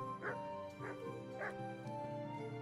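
A dog barks in the video game Kingdom Come: Deliverance, three evenly spaced woofs sounding fairly close over a steady ambient game background, with no talk during the barks.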